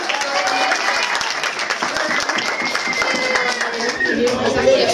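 A crowd at a small-town St. Patrick's Day gathering in Clifton Forge, Virginia claps steadily for several seconds, a dense wash of hand claps holding an even level, swelling slightly at the end.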